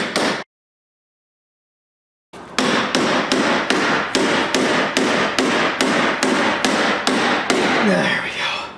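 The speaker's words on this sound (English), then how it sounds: "for our old friend Hammer and Chisel to help us out here" Steady hammer blows on a chisel knocking the fuel pump securing collet of a Chevrolet S-10 Blazer, about a dozen sharp, evenly spaced metallic strikes, loud and close, after a brief silence.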